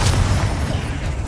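A Confringo fire blast spell from Hogwarts Legacy, a loud, dense, low rumbling burst sustained for about a second, with no voices.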